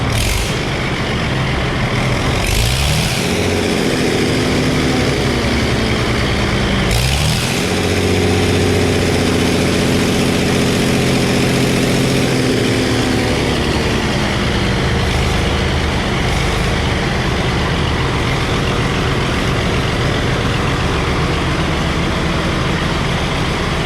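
A loud old Case 930 tractor engine idling close by, then revving up twice in quick bursts with rising pitch before settling back to a rough idle.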